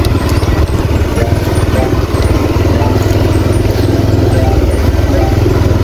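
A motorcycle rides along a rain-soaked road with water on it, its steady engine drone and tyre hiss continuous and close, with a person's voice talking over it.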